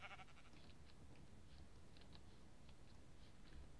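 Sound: sheep bleating in Minecraft video game

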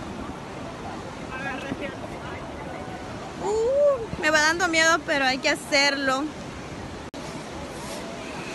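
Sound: motorboat ride at sea with waves and wind

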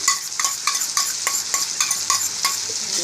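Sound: stirring chilli paneer sauce mixture

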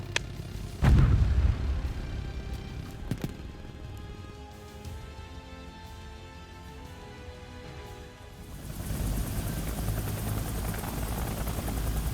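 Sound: helicopter in War Thunder video game

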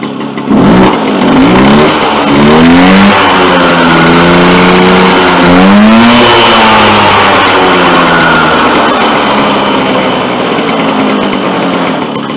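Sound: Motobécane AV89 moped engine running after restart

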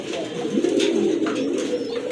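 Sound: Gazi Modana pigeon cooing

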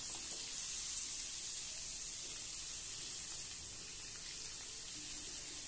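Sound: sliced papaya dropped into hot mustard oil, sizzling

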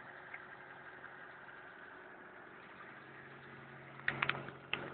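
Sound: car engine idling

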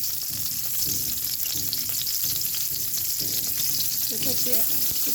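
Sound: onion added to hot white oil, frying

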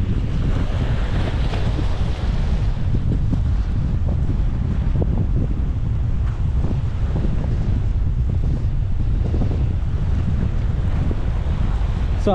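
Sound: strong wind at a beach, wind noise on microphone

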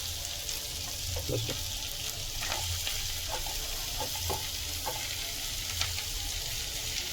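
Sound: tomatoes added to fried onions, sizzling and stirred

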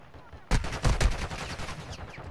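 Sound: gunfire in Call of Duty Warzone video game

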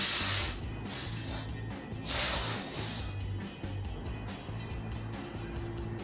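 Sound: spraying BBlunt dry shampoo onto hair

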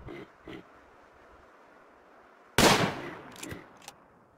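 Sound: gunfire in the video game Rimworld

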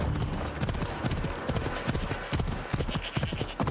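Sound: horse galloping, from video game Assassin's Creed Odyssey

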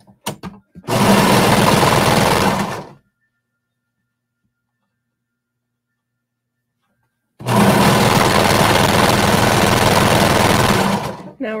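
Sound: sewing machine sewing around a bralette curve

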